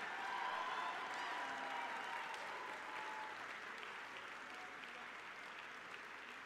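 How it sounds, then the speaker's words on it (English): A standing-room crowd at a developmental disabilities awareness month kickoff event gives a round of applause, steady, dense clapping that holds evenly throughout and sounds somewhat distant and soft. "let's give each of us a big round of applause"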